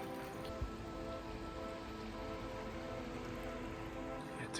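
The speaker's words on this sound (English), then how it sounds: "It is very rainy." Steady rain falling on surfaces at a wet campsite in Iceland, a soft, continuous patter heard close and even, with a faint high tone underneath and no voices.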